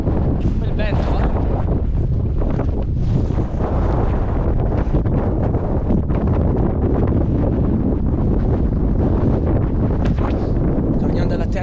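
Strong wind buffets a mountaintop at sunset amid passing clouds, roaring loudly and continuously across the microphone while a person speaks through it.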